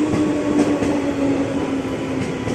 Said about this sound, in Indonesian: Dan masuk juga nih komuter lain tujuan Bogor, JRX 205, 8 kereta juga